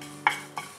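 Mustard seeds, cumin and fenugreek dry-roasting in a pan for an instant mango pickle, with two brief, close scraping strokes of a spoon against the pan.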